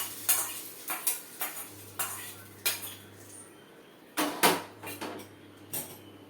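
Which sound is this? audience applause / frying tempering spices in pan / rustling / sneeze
frying tempering spices in pan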